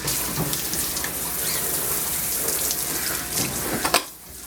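Steady running water from a groom-shop tap rinses soap off a dog's coat, a continuous close hiss and splash broken by a few sharper splashes before it cuts off near the end.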